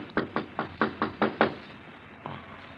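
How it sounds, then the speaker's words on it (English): A radio drama sound effect of knocking on a door: seven evenly spaced, firm raps heard clearly up close, followed after a short pause by one fainter knock. "There's someone at the door."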